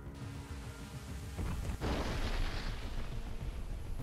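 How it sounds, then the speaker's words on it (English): An ammunition depot detonates after an FPV drone strike: a rumbling background breaks into a loud burst of blasts and crackling secondary explosions that keep rolling on. "Following the drone's explosion, the ammunition inside also detonated."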